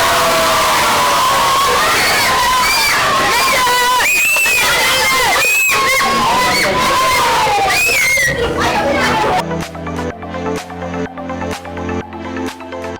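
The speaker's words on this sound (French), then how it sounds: "Applaudissez!" Schoolchildren at a Guinean school Christmas party shout, cheer and clap in a loud, excited crowd, with shrill voices rising over the din before music with a steady beat takes over near the end.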